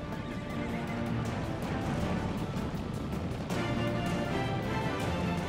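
Wild mustangs neigh and whinny over a steady rumbling background, with hooves clopping and a busy, herd-like commotion throughout.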